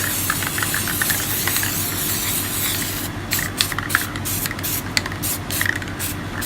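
Short hissing bursts of spray paint, first a quick series, then several separate sprays in an uneven rhythm, close up.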